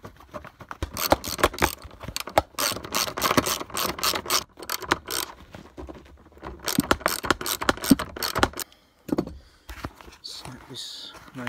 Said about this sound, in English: Bolts back going on.